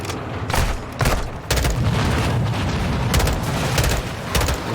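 Sharp gunshots crack in quick bursts over a constant rumble of explosions in the video game Call of Duty: Modern Warfare II, loud and near, with no pauses in the combat noise.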